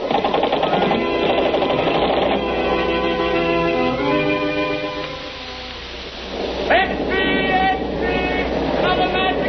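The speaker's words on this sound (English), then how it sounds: "He's got a machine gun. He's pointing at us." A machine gun fires from a surfaced submarine in a radio drama, rapid continuous bursts layered with loud rumbling and dramatic sound effects, with a brief pause before the firing resumes.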